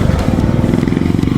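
A matte red Honda ADV 160 scooter engine runs close by while riding, a loud steady low throbbing putter with a rapid even pulse.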